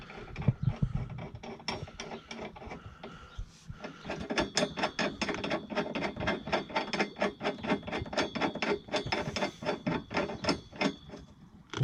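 A hand ratchet tightens a bolt on a PLM crossbar during installation, giving a close, steady run of rapid clicking pawl strokes repeated in bursts with no talking.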